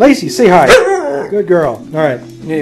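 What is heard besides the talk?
dog barking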